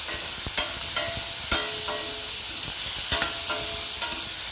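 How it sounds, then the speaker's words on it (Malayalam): A spoon clinks and scrapes in a pan as tomato is stirred into frying zucchini, capsicum and egg for a kuruma, with a steady bright sizzle underneath and sharp utensil taps scattered throughout. "അത് കഴിഞ്ഞ് നമുക്ക് തക്കാളി ചേർത്ത് നന്നായിട്ട് കളക്കാം"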